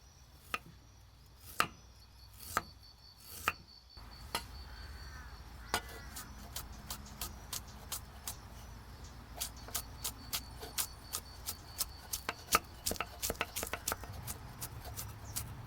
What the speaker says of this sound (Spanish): Chafamos los ajos, shallotas y picamos junto con el jengibre.